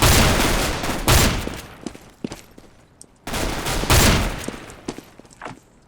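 Bursts of gunfire from Counter-Strike: Global Offensive, with two long loud volleys of automatic fire separated by a few sharp single shots and quieter gaps, close and dominant, with no talk.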